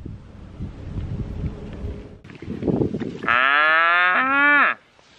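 Outdoor rumble and wind noise beside the Connecticut River, then one long, loud, drawn-out cow moo rising out of it near the end.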